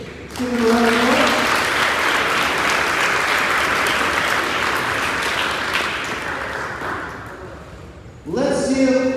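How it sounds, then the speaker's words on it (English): Applause from an audience at an eighth-grade school awards ceremony honoring math award recipients, a steady dense clapping wash that fills most of the clip before fading, with a voice speaking briefly at the start and end. "Give them a round of applause."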